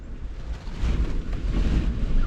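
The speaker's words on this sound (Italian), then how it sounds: "C'è un vento incredibile." Strong wind buffets a parked camper and the microphone, a continuous roaring rumble that swells louder partway through, with no voices.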